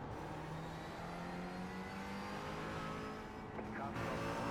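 Race car engine in the iRacing sim at Le Mans, a steady mechanical drone with an engine tone sliding as the driver lifts off and brakes, a brief shift near the end, with talk over it.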